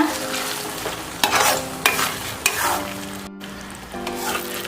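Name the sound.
stirring bread halwa in a pan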